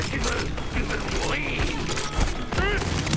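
Turret gunfire and mechanical weapon clatter from the video game Borderlands 4 sound under constant game noise, with someone speaking French over the action.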